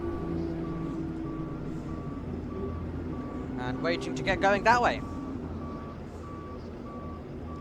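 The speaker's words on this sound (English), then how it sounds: "You can hear the reverse of the recovery truck, we believe, that is out there right now" A recovery truck at a race track sends out steady, evenly spaced reversing beeps at a distance, running throughout beneath a commentator's voice and a burst of passing race-car engine noise.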